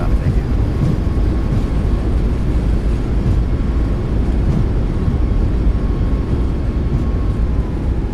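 Boeing 737 MAX 8 thrust reversers deployed during landing deceleration in a flight simulator game, a loud, dense, steady engine roar and rumble filling the whole stretch without pause.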